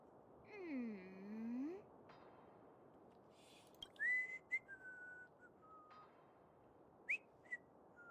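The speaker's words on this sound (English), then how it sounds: "nice whistle tunes" A character in the video game Honkai Star Rail whistles a short tune: a swooping falling-and-rising phrase, then several brief higher notes, faint over a soft background hiss.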